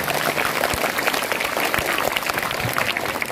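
Steady audience clapping rolls through a Founder's Day celebration hall, a moderately loud, even wash of many hands with no let-up across the short stretch.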